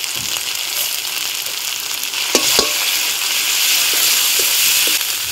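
Ginger and cumin paste with turmeric fries in a pan, hissing loudly and steadily while a spoon stirs it, with a couple of sharp scrapes midway.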